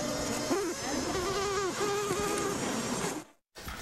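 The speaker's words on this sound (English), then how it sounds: "The study showed the bees made frantic pitched warning sounds similar to panicked screams when their nest was invaded by the giant hornets." Asian honeybees produce frantic anti-predator piping warning sounds as giant hornets invade their nest, a dense buzzing hum with wavering pitched pipes rising and falling, close and steady, then a brief cutout near the end.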